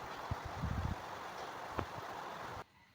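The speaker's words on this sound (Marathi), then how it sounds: "बाहेर पाऊससुद्धा जोरदार लागतो आहे आवाज येत असेल तुम्हाला व्हिडिओमध्ये पावसाचा" Heavy rain falling outside a home as a steady, even rush of broadband hiss, with a few low thumps early on. The sound cuts away abruptly near the end.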